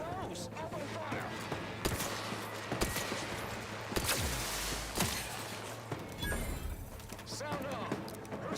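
Sustained gunfire in the sci-fi shooter Outer Worlds 2, with dense bursts and scattered sharp shots rattling continuously across the scene while voices shout over the chaos.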